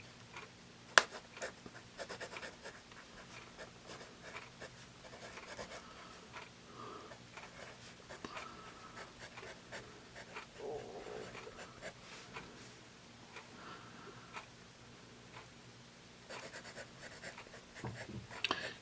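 An America's Finest matte black pencil on its unsharpened factory point writes on paper, giving a quiet, continuous scratchy rasp with small strokes and pauses, close and faint.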